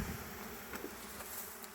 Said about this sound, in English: So we're going to smoke these bees off to the side.